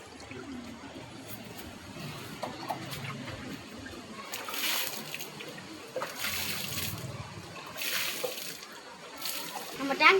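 Waste water from a guppy aquarium splashes and sloshes as it is poured onto plants outdoors, a continuous close pouring with people talking over it.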